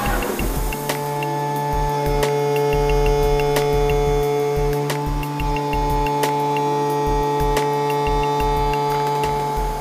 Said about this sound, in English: This is where we do our first operation of cutting on this part.